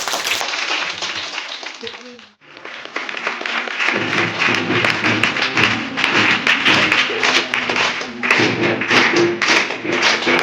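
An audience at a program for blind women bursts into loud, sustained clapping after a brief pause, with dense overlapping hand claps and voices mixed in beneath.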